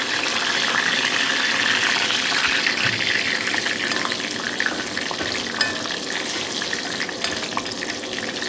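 Dried red chillies and curry leaves fry in hot oil in a pan for chammanthi, a loud, continuous crackling sizzle that runs steady and close with faint stirring and no voices.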